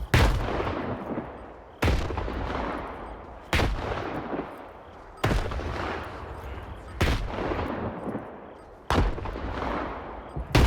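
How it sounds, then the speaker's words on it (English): Grenades detonating one after another in the video game STALKER, six loud, sharp blasts spaced roughly two seconds apart, each trailing off into a rolling, debris-filled rumble. "Just throw 50 million grenades at this guy down there."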